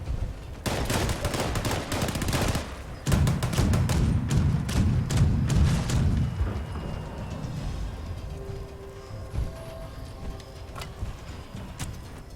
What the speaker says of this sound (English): Contact, opening fire.